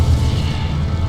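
Incendio fire spell cast in Hogwarts Legacy: a short, loud, low rumbling whoosh of flame that sustains briefly and sits close, with no voice.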